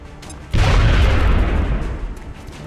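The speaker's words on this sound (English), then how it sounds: "Grenade out." A grenade explodes in XCOM: Enemy Unknown: one sudden loud, deep blast after a quiet moment, its rumble and crackling debris slowly fading over the next two seconds.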